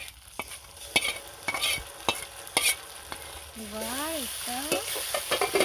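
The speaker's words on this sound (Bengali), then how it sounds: "এবার জিরে আর লঙ্কাটা দিয়ে দিচ্ছি।" Cumin and chili sizzling in a little oil as they are stirred in a pan, with scraping strokes over steady frying; a voice speaks briefly partway through.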